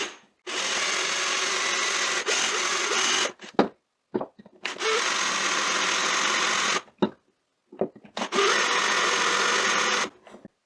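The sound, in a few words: drill boring into end of wooden dowel rod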